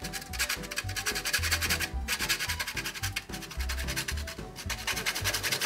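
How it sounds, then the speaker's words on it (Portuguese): A whole nutmeg scraped against a grater in a cooking-school kitchen, giving a steady, close, rhythmic rasping that continues without pause. "a gente vai ralar um pouco de noz moscada"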